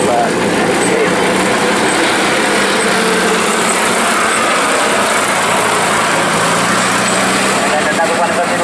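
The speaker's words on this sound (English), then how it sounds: "On the load carrier, as the owner Paul Mantle's demonstrating there, it's a very little vehicle." A very small military load carrier, driven by its owner Paul Mantle in a military vehicle parade at the Great Dorset Steam Fair, runs with a steady engine drone throughout, mixed with open-air crowd noise and background voices.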